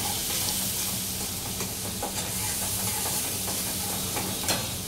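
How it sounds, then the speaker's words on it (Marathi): Green chili and ginger-garlic paste sautés in hot oil with a steady close sizzle and hiss, broken by faint stirring scrapes. "ते टाकल्यावरती तेलामध्ये जरा 1 ते 2 मिनिटं व्यवस्थित परतून घ्यायचं आहे।"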